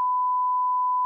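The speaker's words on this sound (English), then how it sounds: "Beep, beep, beep, beep, beep." One steady censor beep at a single pitch holds evenly for about a second, loud and clean, with nothing else around it.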